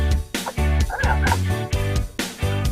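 A person imitates a goose with a run of honking, gobbling vocal bursts in quick, uneven succession, loud and close with no other sound.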